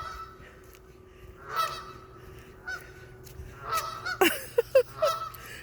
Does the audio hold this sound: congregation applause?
no